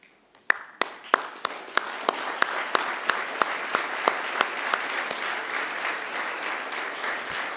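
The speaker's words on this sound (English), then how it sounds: "give them a round of applause in thanks" A graduation ceremony audience applauds, starting with a few sharp separate claps that quickly swell into dense, sustained clapping filling the hall.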